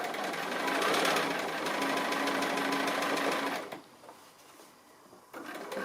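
A sewing machine stitches a fabric tree appliqué, running as a steady loud buzzing drone for nearly four seconds, then stopping briefly before starting up again.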